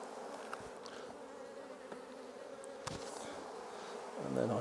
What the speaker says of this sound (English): hundreds of bees when I put the final super back on top